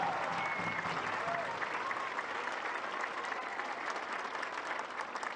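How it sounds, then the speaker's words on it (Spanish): A crowd at an outdoor public housing event applauds nurses and doctors, a sustained, uniform roar of clapping from many people, heard at some distance with faint voices mixed in. "Un aplauso porque realmente hacen un trabajo extraordinario."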